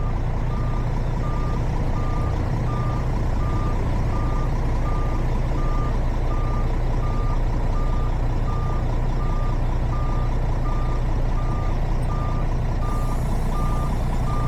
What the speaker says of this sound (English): we'll shift back to reverse and push the trailer in a straight line to the rear of the box.